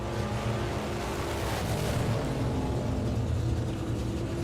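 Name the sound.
big block Chevy drag racing car engine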